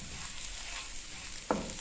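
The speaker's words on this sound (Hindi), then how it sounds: "थोड़ी देर इसको भूनेंगे" Semolina roasting in a pan gives a soft, faint, steady sizzle, with one brief scrape or clink of a stirring utensil near the end.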